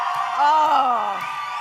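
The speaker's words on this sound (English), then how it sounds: "The crowd going up here." A wrestling arena crowd at an OVW show erupts in rising whoops and cheers, swelling loudly mid-moment and then tapering off slightly, with shouted voices prominent in the mix.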